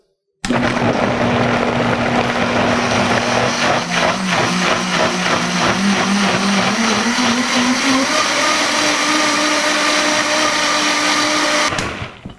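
A kitchen blender whirls tomatoes into enchilada sauce, a loud continuous motor whine with a churning roar that holds steady for about eleven seconds, its pitch shifting slightly as the contents break down, then cuts off.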